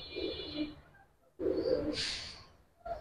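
Giribaz silver pigeons and their chicks cooing in two low, throaty bursts separated by a short pause, with a sharp higher squeak in between, heard close up and with no talk.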